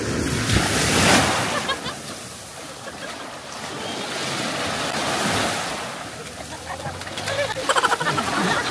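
Ocean waves off Davao Oriental surge and wash in repeated swells, with wind buffeting the microphone; the roar rises and falls continuously without clear speech.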